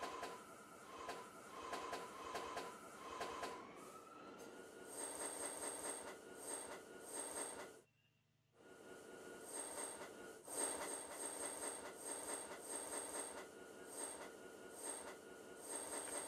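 Moscow metro train running between stations, with a steady loud rumble, rattling and high wheel squeal, cutting out to near silence for about half a second before the roar resumes.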